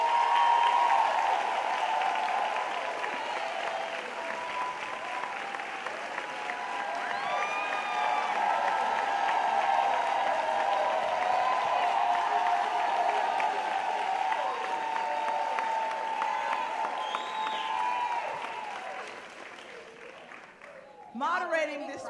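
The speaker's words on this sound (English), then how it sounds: "Ladies and gentlemen, please clap your hands for Miss Mara Brock Akil." A studio audience breaks into sustained applause with scattered cheers and whoops, holding strong for most of the stretch before fading out at the end, where a voice briefly begins to speak.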